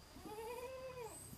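A goat in a pen gives a single drawn-out, wavering bleat that rises and falls, fairly faint against a low background hum.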